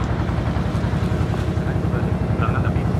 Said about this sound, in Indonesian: menggunakan motor air klotok, versinya menggunakan klotok